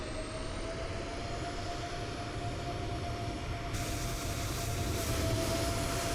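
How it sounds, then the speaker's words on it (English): A simulated aircraft engine in a flight simulator on a VATSIM flight from Jakarta to Makassar, heard as a continuous loud drone with a steady high whine that brightens and grows louder partway through. "a plane's just spawned in on top of me"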